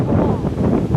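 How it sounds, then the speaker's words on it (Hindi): Strong stormy wind buffets the microphone with a loud, continuous roaring rumble that surges and drops in gusts, filling the whole moment. "तूफानी हवा है तूफानी हवा इतनी तेज हवा"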